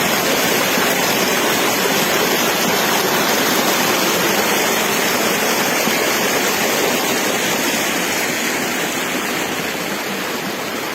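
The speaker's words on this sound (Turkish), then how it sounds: "Akdağ doğal su kaynağı." Water flows steadily at the Akdağ natural spring in Erkenek, Malatya, a loud, close, continuous rushing hiss that holds even for the whole stretch, with no voices.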